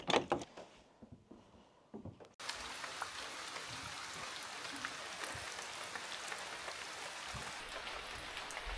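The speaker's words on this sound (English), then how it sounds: "it's raining pretty hard at this point" Steady heavy rain pouring down in the Peruvian Amazon rainforest, a dense constant patter close by, preceded by a few seconds of muffled knocks and movement before the downpour opens up.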